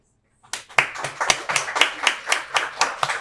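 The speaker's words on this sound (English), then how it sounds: "we wanted to give you some great round of applause" A small group claps at a school student-of-the-month recognition event, with sharp separate hand claps in a steady rhythm after a brief silence, close and fairly loud.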